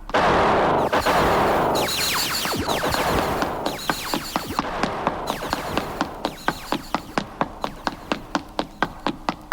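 Radio-drama gunfire effect: a dense burst of rapid shots gives way to a steady run of sharp, evenly spaced single cracks, loud and close, with no voices.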